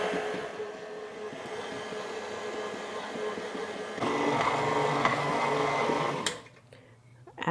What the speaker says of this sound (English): never put it above the 2 on your stand mixer or you will ruin the motor.